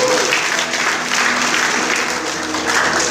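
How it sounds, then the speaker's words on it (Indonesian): A church congregation at an Easter youth service claps together in a continuous, even burst of applause, loud and close, with no voice on top. "Tepuk tangan untuk orang Papua."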